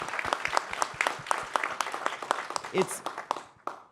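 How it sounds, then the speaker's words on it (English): A small crowd applauds with brisk, uneven claps that thin out and fade to a few last claps. "Please give him a quick round of applause."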